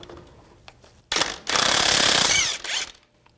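A ratchet tool spins off the lower shock bolt nut on a 2002-2006 Chevy Avalanche. After a few faint clicks comes a short loud burst, then a sustained whirring rattle of about a second, then silence.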